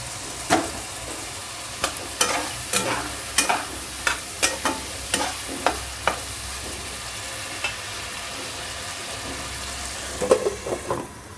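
Spice paste frying in a pan gives a constant low sizzle broken by a series of sharp stirring scrapes and clicks at irregular intervals, close and fairly loud, with no voices.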